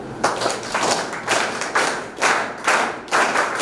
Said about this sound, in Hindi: आपके लिए भी ताली बजाओ।